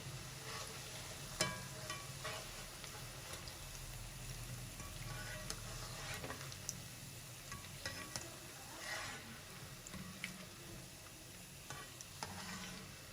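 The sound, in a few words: pakoras deep frying in oil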